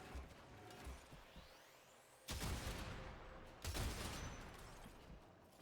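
Gunfire from a weapon in the video game Warframe sounds as two loud bursts over a busy background of game effects, each rattling for more than a second.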